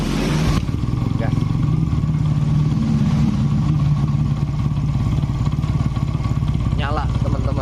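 Yamaha Jupiter Z motorcycle with an ignition fault, its engine starting and then running at a steady rattly idle up close, with someone talking over it.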